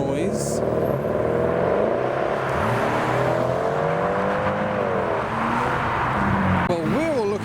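A car engine revs at a custom car meet, loud and steady throughout, with rising and falling whining pitch sweeps and a final sharp rev near the end, under crowd noise and talk.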